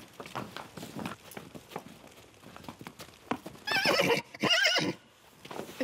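A horse in a wood pasture clops along on hooves in an uneven walking rhythm, then lets out two loud whinnying neighs close by; brief movement noise follows.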